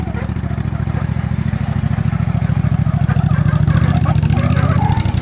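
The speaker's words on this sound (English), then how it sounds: "It's got a 16 horsepower Vanguard V-twin in it, off of a Cub Cadet." A 16 horsepower Vanguard V-twin from a Cub Cadet, fitted in a modified mud lawnmower, runs loud and close with a steady pulsing thrum, its pitch rising slightly as it is revved near the end.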